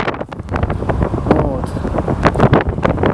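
Wind gusts through a forest, buffeting the microphone with a steady, rushing roar while someone speaks Russian close by.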